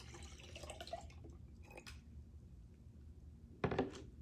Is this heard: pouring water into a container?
yes